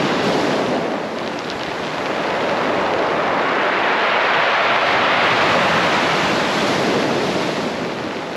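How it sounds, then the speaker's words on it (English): Pebbles on Chesil Beach are dragged back down the bank by retreating waves, making a loud, continuous rushing hiss and roar with a slight swell in the middle and no voices. "the pebbles make this really pleasant noise as they're pulled back down the bank"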